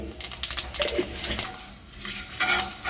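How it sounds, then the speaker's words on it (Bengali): Dry chili, bay leaves and whole cumin frying in very hot oil while being stirred, close crackling sizzle with scraping spatula strokes and scattered pops. "এই ফোড়নটা আমি তিরিশ সেকেন্ড মতো কিন্তু একটু নেড়ে চেড়ে ভেজে নেবো"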